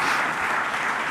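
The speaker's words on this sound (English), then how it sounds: "So round of applause to the board." An awards-night crowd applauds the board, a loud, dense burst of clapping from many people that holds steady without any talking.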